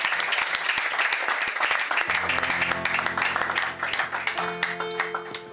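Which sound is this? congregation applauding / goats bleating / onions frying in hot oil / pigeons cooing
congregation applauding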